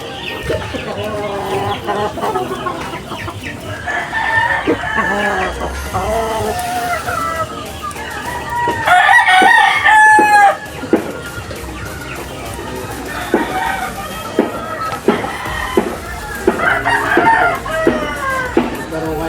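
Roosters crow repeatedly over a backdrop of hens clucking, loud and close, with people talking intermittently among the birds.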